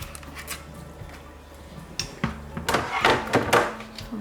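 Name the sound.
pouring cooked pasta through a Thermomix Varoma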